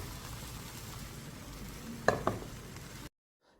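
A soft, steady sizzle of egg white frying in a pan over medium heat, broken by two quick sharp clinks of a utensil before it cuts to silence.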